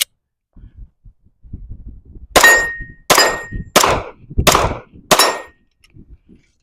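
Five sharp gunshots from a red-dot-sighted gun spaced about a second apart, each with a ringing metallic clang from a steel target, over quiet wind noise on a windy day.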